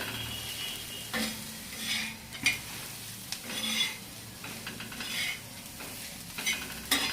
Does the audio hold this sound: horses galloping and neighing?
no